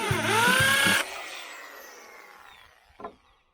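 A power drill whines loudly with a bit spinning into the work, its pitch sliding for about a second before cutting off. A long fading ring follows, then a single brief knock.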